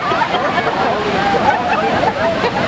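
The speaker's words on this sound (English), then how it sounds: "Big waves help" Waves wash and slosh against the rocks at La Jolla Cove, a continuous, fairly close churning of water without a clear break in the rush.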